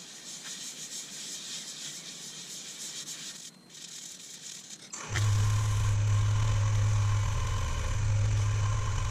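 Superfine abrasive rubbing on a yew and resin pot spinning on a lathe, a soft hiss of sanding that turns into a louder, steady machine hum midway as the lathe runs.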